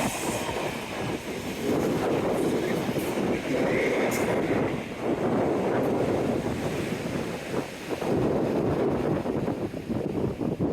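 A loud, continuous rumbling roar of a passing Class 37 locomotive-hauled train along a seafront, with heavy wind buffeting, steady and close throughout.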